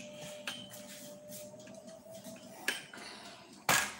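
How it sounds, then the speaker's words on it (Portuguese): Dishes, pots and cutlery being washed give a few sharp clinks and clatters over a low, steady kitchen background, with no one talking. "Vamos lavar a louça, então."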